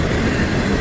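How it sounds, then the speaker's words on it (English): A long freight train carrying UPS and Werner trailers rolls through a town, its steady, loud rumble and rattling wheels filling the whole short stretch without pause. "I just paced this train coming through town."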